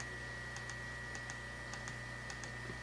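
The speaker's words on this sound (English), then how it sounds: "You're going to hear lots of clicking because I got to go through these different pictures till I get to it." A computer mouse clicks in a steady series of light, faint ticks while someone browses through pictures, over a constant electrical hum.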